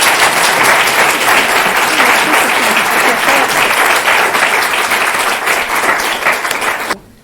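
An audience applauds warmly for a guest speaker, a dense, loud, continuous wash of clapping that holds steady and then cuts off abruptly near the end.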